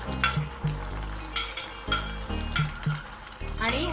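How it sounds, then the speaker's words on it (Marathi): Tomato puree cooking in melted butter in a pan for tomato soup, giving a steady close sizzle broken by repeated scrapes and clinks of a spoon stirring against the pan. "बटर आपलं वितळलं आहे, त्याच्यात आता टोमॅटोची प्युरी आपण ऍड करणार आहोत।"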